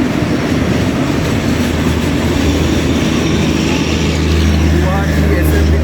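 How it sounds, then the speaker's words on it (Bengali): A long-distance express train rumbles into a station near Bhubaneswar as a steady, loud, low drone of wheels and engine that stays constant throughout, heard from on board with some voices faintly underneath. "ওদিকে ট্রেন ঢুকছে"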